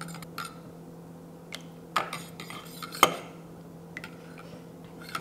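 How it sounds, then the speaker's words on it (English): A spoon stirring ingredients in a bowl while baking gives scattered light clinks and scrapes against a steady background hum, with a sharper knock near the middle; no one speaks. "Stir, stir, stir."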